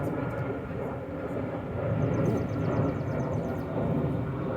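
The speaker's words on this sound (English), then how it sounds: "Planes flying right through the clouds." A plane flies overhead above a cemetery near an airport, a steady broad roar that swells slightly midway and holds throughout, with faint talk beneath.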